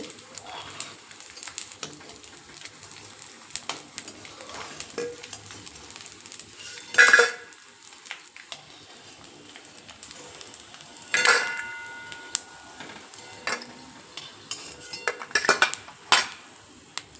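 Fried edible gum lifted from a pan onto a plate, metal spoon scraping and clinking against the pan in scattered bursts over a faint sizzle, close, with a few louder clatters and no talking.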